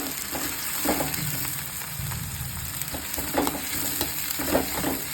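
Chopped onions sizzle steadily in coconut oil in a pan while a spoon stirs them, with soft scraping strokes now and then over the constant close frying hiss, no voices.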